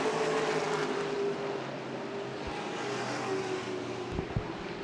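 Stock race cars circulate at Berlin Raceway during an ARCA/CRA Super Series race, a steady, moderately distant engine drone filling the track with a few brief low thumps near the end.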